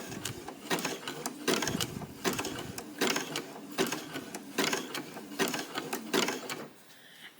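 A sewing machine stitches slowly through an embroidered rope coaster, its needle thumping in a steady mechanical rhythm of repeated clacks. The sound is close and continuous, with no one speaking.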